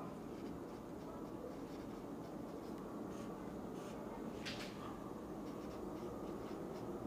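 Chalk or marker writing on a board during a lecture: faint scratchy strokes in short bursts, one sharper stroke in the middle, over a constant low room hum.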